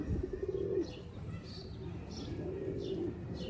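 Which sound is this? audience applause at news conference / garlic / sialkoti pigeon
sialkoti pigeon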